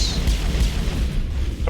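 Deep rumbling rocket explosions in the video game Mass Effect, a continuous low boom with rolling bass and no clear gaps, fairly loud.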